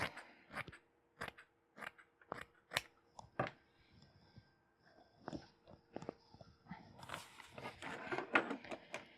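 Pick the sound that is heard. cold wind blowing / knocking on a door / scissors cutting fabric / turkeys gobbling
scissors cutting fabric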